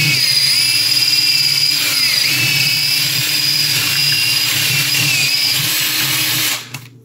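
A power drill with a 3/8 bit bores holes, making a loud, steady high-pitched whine that runs close up for several seconds before spinning down at the end.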